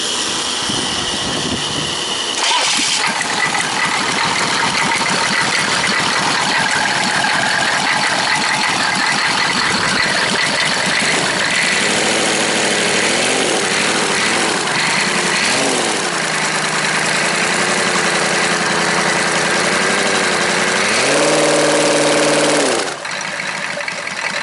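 A rebuilt 6.2L-to-6.5L conversion diesel engine cranks over, catches and settles into a loud, steady idle with a rough mechanical clatter that wavers slightly before the sound cuts off.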